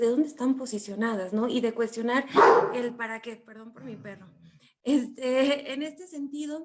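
A dog barks several times in sharp, close bursts, mixed in with someone speaking Spanish over it.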